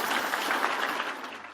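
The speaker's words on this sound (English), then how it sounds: "invite the masters of ceremony with a big round of applause" Audience at a business seminar applauding to welcome the masters of ceremony, a brief burst of dense clapping that tapers off.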